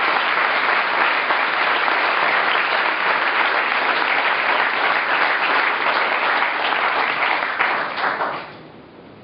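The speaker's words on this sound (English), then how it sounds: "So please give a big hand to Tun." An audience at a London evening event honouring Tun Dr. Mahathir breaks into loud, sustained applause from a large crowd, steady for about eight seconds before tapering off at the end.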